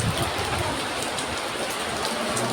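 Heavy rain pours down in a dense, continuous hiss, drumming steadily on surfaces and a pandal tent close by without letting up.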